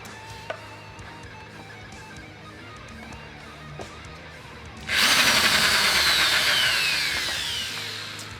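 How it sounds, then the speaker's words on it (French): A corded electric drill, used in building an electric guitar, starts abruptly after a few seconds of quiet room noise and whines loudly and steadily nearby, its pitch sagging slightly as it runs. "il faut brancher la perceuse parce qu'elle n'est pas sans fil celle-là"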